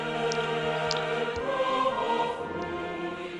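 The Czech national anthem plays as a sustained, steady instrumental passage with held tones, moderately loud and continuous, with no talking over it.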